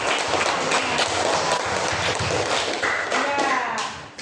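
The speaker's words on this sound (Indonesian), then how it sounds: "Kasih tepuk tangan dulu." An audience claps together at the close of a question-and-answer talk at a formal gathering, a dense steady patter of hands that holds for about four seconds, with some voices mixed in, before easing off at the end.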